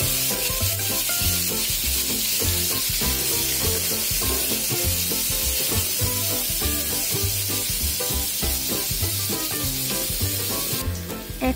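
Carrot and onion fry in a pan with a loud, dense, continuous sizzle and faint scraping, close by and with no talking.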